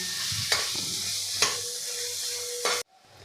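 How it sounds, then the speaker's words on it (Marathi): Chopped onions and green chillies sizzle steadily in a pan for a masala chana dal, with a few scraping stirs. The frying stops abruptly near the end, and no one speaks. "दोन मिडियम साईजचे कांदे चॉप करून घेतलेले ते यामध्ये आपल्याला घालून घ्यायचे आहे आणि हलक्याशा सोनेरी रंगावर आपल्याला हे परतून घ्यायचं आहे"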